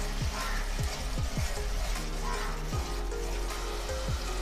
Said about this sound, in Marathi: ही सुद्धा आपण कांद्यासोबत 2 ते 3 मिनिटांसाठी परतून घेऊया।